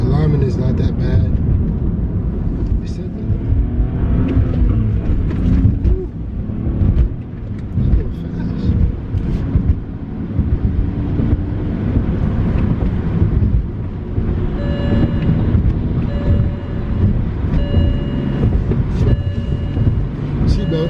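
Inside a BMW 330xi on the road, a steady low engine and road rumble with wind noise runs throughout, and a person talks over it.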